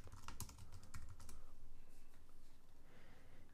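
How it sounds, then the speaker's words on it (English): Quick, uneven keystrokes on a computer keyboard while a class name is entered in an iOS chat app setup, with a dense cluster of clicks early on, then a softer patter, close and fairly quiet with no talk. "Type in the name of the class to confirm."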